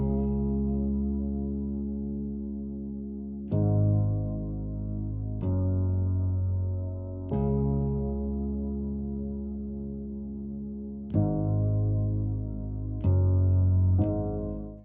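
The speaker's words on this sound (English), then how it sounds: "Now with my piano and my bass layered together," Layered piano and Rickenbacker bass pushed through saturation and effects, a slow sequence of sustained, distorted chords changing every couple of seconds, each one swelling and decaying alone.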